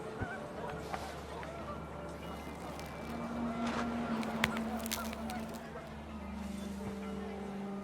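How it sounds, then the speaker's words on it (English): Panicked geese honk in What Remains of Edith Finch, faint and scattered cries over a low droning engine hum that runs throughout. "panicked geese appeared and quickly went"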